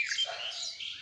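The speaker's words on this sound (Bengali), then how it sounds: "এটা কিন্তু বুলবুলি পাখি" Bulbul birds on a rooftop give a short, bright burst of chirping, clear and fairly close, lasting about a second.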